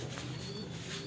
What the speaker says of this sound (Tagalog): Ito yung ibon, no?